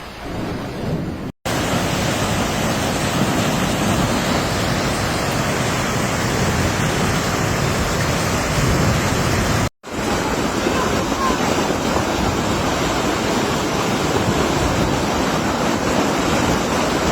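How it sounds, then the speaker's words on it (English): Floodwater surging through flooded streets in Piraeus and Glyfada, Greece, after heavy rain and a burst water pipeline, a loud continuous roaring rush broken by two brief cuts. "Dimokratias Avenue in Piraeus was flooded within minutes"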